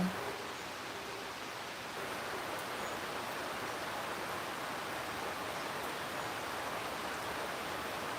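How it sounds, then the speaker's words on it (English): Steady, dense patter of rain falling continuously, a broad even hiss with no talking. "Can you hear the rain?"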